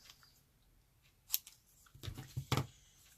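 Scissors cutting cardstock for a Halloween shaker card: a sharp snip on its own, then a quick run of closely spaced crisp snips, near and fairly quiet with no talk.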